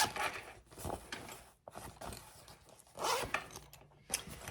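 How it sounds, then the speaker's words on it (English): A zipper on a handbag pocket is pulled open and closed in several quick, close rasping strokes with brief pauses between them. "So if you open it up, you've got your zipper pocket."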